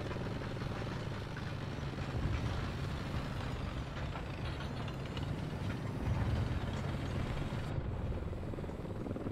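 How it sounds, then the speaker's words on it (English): A helicopter in the War Thunder tank battle game whirs with a steady rotor drone and engine rumble, loud and continuous amid distant battle noise. "So there's a helicopter."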